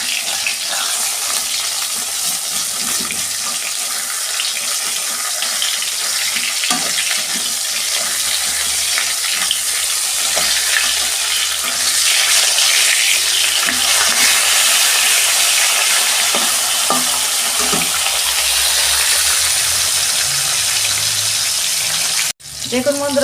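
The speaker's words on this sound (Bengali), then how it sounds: "একদিক ভাজা হয়ে গেছে, আমি উল্টে দিচ্ছি।" Rohu fish frying in oil in a pan, a steady, loud hissing sizzle that runs almost without a break, with faint clatters and brief stirring noises on top before it cuts off near the end.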